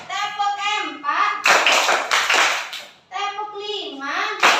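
In a primary classroom clapping exercise, children chant in unison, with a burst of quick, loud hand claps in the middle between the chanted counts.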